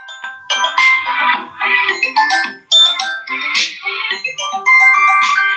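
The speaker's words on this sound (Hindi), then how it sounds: "एक मिनट बेटा, एक मिनट, फोन आ गया है" A phone rings with a loud, close melodic ringtone, a series of chiming electronic note phrases repeating in bursts with short gaps, heard alone without talk.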